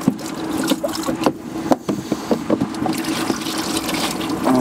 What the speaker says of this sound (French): Je vais quand même enlever l'eau.